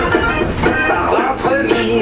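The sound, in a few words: Paris subway train running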